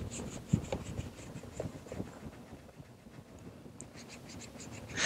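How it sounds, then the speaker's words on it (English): Trim gel is rubbed by hand into faded plastic car trim, producing faint, soft repeated scrubbing and squeaking strokes in an irregular back-and-forth rhythm, close and quiet. "we're gonna rub it into the plastic"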